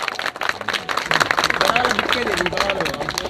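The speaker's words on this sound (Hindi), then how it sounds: "जोरदार तालियां सर के लिए" Audience applause for a guest, the actor who played Shakuni Mama in the Shri Krishna serial, at a network marketing event in Prayagraj: dense, steady crowd clapping close by for several seconds, with voices mixed in.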